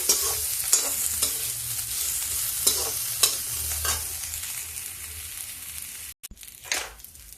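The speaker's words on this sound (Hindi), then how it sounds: "प्याज डाल के इसको हल्का भून लेते हैं और इसी समय पे थोड़ी सी अदरक। गैस को तेज कर देंगे।" Onion and ginger fry in a pan over high heat with a steady bright sizzle, punctuated by several spoon-stirring scrapes and a brief pause near the end.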